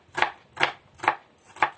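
A kitchen knife slices through an onion on a board for a winter vegetable salad, four crisp, evenly spaced cutting strokes, close and clear with no talking.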